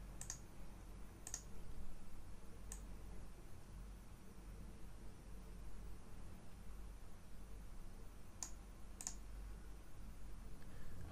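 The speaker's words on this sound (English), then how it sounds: "So we just keep on clicking next" A computer mouse clicks as someone works through software dialog steps in ArcGIS. The sharp, faint clicks come singly and in pairs, widely spaced over a steady background hiss.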